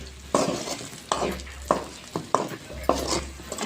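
Chicken tossed with coriander powder and spices sizzles in a pan while a spoon stirs it in about five distinct scraping strokes, close and fairly loud over a steady frying hiss.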